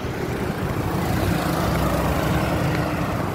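Vehicles passing on a road outdoors, a steady broadband rumble of traffic with no distinct pass-bys, fairly loud and continuous throughout.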